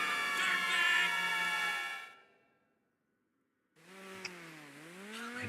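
A police car siren wails in GTA, the electronic tone sweeping loud and close, then dropping to near silence before rising again with a bright clang.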